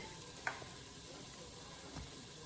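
Faint steady sizzle of steak searing in a hot pan, a soft continuous crackle with a couple of small pops and knocks.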